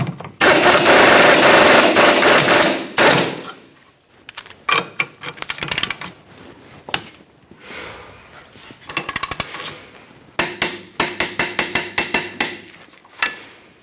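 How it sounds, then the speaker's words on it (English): An 18mm tool snugs the bolt on the rear lower control arm of a 2008-2012 Jeep Liberty, giving a long loud burst of rattling then sharp repeated clattering bursts up close, with no talking. "we can start tightening the mounting hardware"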